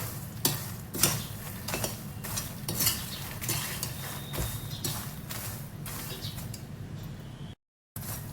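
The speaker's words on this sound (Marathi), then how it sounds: "आपल्याला मसाल्यामध्ये मस्त मखाने मिक्स करून घ्यायचे आहे।" Fox nuts (makhana) being stirred into roasted spice masala in a pan, a run of scraping, clattering strokes with a faint sizzle underneath.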